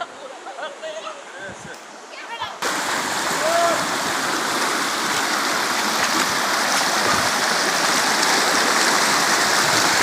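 River stream water rushing and splashing at a riverside, a loud, steady close-up wash that jumps up sharply after a quieter start and continues unbroken.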